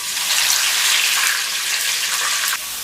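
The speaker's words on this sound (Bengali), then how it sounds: "আলুগুলোকে লাইট ব্রাউন করে একটু ভেজে নিব।" Potato pieces, salted and tossed with turmeric, crackle and sizzle in hot oil in a pot, making a steady, dense, close frying hiss with no voices.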